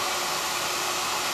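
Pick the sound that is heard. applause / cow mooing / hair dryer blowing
hair dryer blowing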